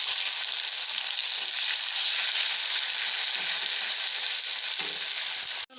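Fish frying in a pan with tomato added, a steady broadband sizzle that holds loud and close throughout, broken by a few faint stirring knocks, no voices.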